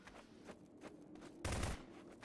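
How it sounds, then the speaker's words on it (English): Rapid bursts of gunfire in a prop hunt video game, a short volley of shots cracking out partway through, fairly distant and quiet against a soft background. "I hear gunshots."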